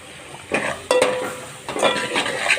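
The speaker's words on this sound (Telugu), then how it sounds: "వాటిని గోల్డెన్ బ్రౌన్ కలర్ వచ్చేదాకా కలుపుతూ ఉండండి" Onions and green chilies being stirred in a pan give close, fairly loud scraping strokes in three or four bursts, with a soft sizzle underneath and no speech.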